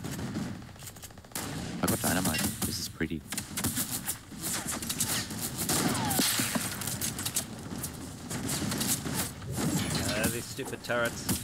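Turrets firing in the video game Fortnite, rapid automatic bursts repeating through the scene, fairly loud, mixed with someone talking over the gameplay.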